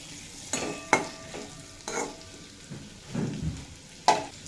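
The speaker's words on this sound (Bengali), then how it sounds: "সজনের ডাঁটা 3-4 মিনিট মতো ভেজে কষিয়ে নিয়েছি, এবার এড করে দেব টমেটো।" Drumstick stems and tomato fried and stirred in a pan for a Bengali vegetarian sojne data dish, giving soft sizzling under a series of spoon scrapes and stirring knocks, close by with no talk.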